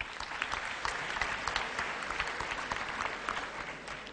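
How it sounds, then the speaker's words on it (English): Steady audience applause welcoming a guest speaker at a professional enterprise and risk-management event, moderately quiet and even, with crisp individual claps throughout and no talking. "let's welcome him with a big round of applause."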